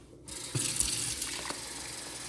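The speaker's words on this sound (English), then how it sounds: "Change the water a few times." Tap water runs steadily into a sink while salad greens are rinsed in a kitchen, a broadband rush that starts abruptly and continues evenly, with faint handling knocks.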